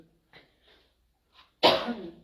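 A few quiet breaths, then one sudden, loud, close sneeze that trails off.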